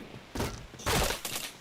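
First-person shooter gunfire comes in two or three short, muffled bursts, fairly faint and mixed into the game's ambient noise.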